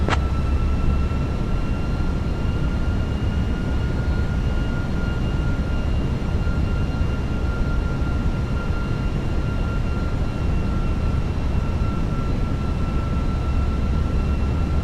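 An airliner on final approach for landing in a flight simulator game gives a steady, loud, unbroken drone of cabin and engine noise with a faint whine, and no talking.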